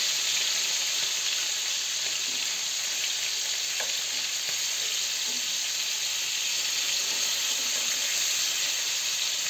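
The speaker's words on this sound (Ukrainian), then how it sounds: "Рибу добре смажити на великій, ну, більшій кількості олії, не в маленькій." Fish frying in plenty of oil gives a continuous dense crackling sizzle, steady and close throughout, with faint occasional pops and no talking.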